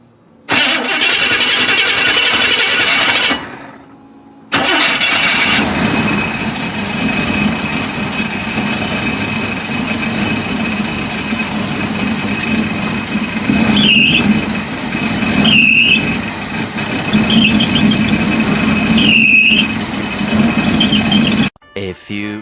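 A car engine is cranked and fires after a distributor refit, then settles into a loud running idle with squeaks and squeals recurring over it, and a brief pause partway through.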